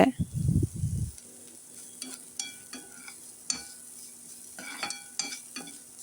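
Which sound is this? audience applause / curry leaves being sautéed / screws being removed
curry leaves being sautéed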